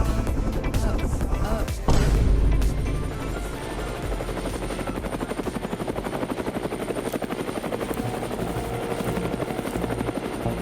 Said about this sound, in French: C'est l'hélicoptère de l'autre jour!